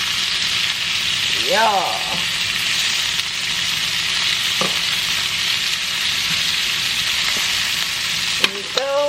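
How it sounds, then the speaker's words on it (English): Previously cooked vegetables are stirred into sizzling steak fajita beef, a steady loud frying hiss with occasional utensil scrapes and clicks, while a voice speaks briefly. "we're going to go ahead and throw in our vegetables that we previously cooked. And while we're doing that, we're going to mix it in with the beef like so"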